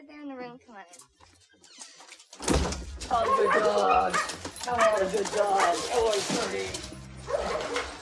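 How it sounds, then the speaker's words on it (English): Dogs barking, yipping and whimpering in a 1995 film scene, busy and fairly close, layered under and alongside speaking voices and other scene sounds. "The dogs we added in rehearsal."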